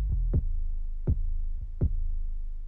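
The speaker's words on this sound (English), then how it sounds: "When the beat comes in and the 808 hits" Deep 808 bass kicks hitting in a hip-hop beat, a few heavy booming thumps with falling pitch, spaced at an even, slow rhythm over a sustained low hum.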